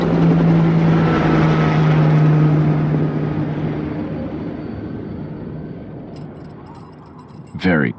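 Helicopter rotor in the Resident Evil 4 video game, a loud steady engine drone with a low hum that slowly fades, ending with a short sharp burst.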